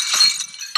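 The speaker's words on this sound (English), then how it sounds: "Glass break." Glass shatters in the video game Happy Wheels with a sharp, bright, close crash and tinkling, followed a moment later by a second brief burst of breakage.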